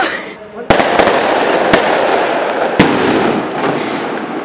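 A firework explodes in the sky outdoors, several loud cracking bursts followed by a long rumbling fizz that carries on for seconds, with no talk over it.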